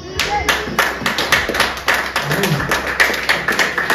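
Congregation clapping in church during a sermon, brisk rhythmic clapping in a steady beat filling the room, with a voice faintly underneath.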